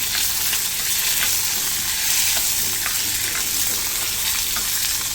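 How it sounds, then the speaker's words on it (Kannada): Onions frying in a pan for Hogenakkal-style fish curry, stirred as they brown. A steady close sizzle runs throughout, with soft scraping stir strokes and no talking. "ಸ್ವಲ್ಪ ಈರುಳ್ಳಿ ಕೆಂಬಣ್ಣ ಬರೋವರೆಗೂ ಹುರ್ಕೋಬೇಕಾಗತ್ತೆ."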